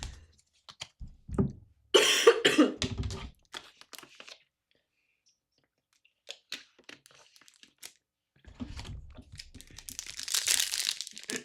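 A few muffled, stifled coughs burst out close by, mixed with crinkling rustles and quiet pauses between.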